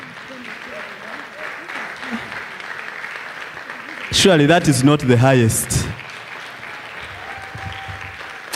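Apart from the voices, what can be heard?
conference audience clapping hands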